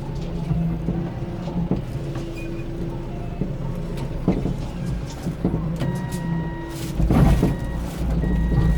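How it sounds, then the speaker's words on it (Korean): Repeated electronic reversing beeps from a forklift carrying steel rebar sound at a steady pace over rumbling engine and construction site noise, with clanks and a brief voice in the mix. "왜 뚜뚜 소리가 난다."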